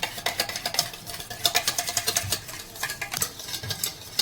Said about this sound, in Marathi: आणि हे दही मला व्यवस्थित फेटून घ्यायचं आहे.